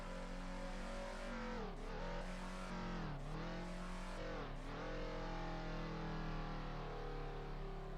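A racing car in the Assetto Corsa video game on the Knockhill circuit, its engine droning loud and steady while it revs up and drops through several gear changes, with no talk over it.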